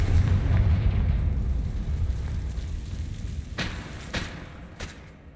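A Confringo blasting spell explodes in Hogwarts Legacy with a deep rumbling boom that slowly fades, followed by a few sharp crackling pops.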